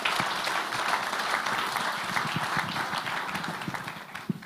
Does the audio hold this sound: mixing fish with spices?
no